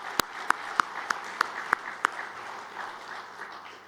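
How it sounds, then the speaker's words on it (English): Applause from an audience at a financial crime conference, given after a keynote address: a steady wash of clapping with a few crisp, evenly spaced claps standing out early, then easing off. "a round of applause for Ms. Busisiwe Mavuso for an amazing keynote address"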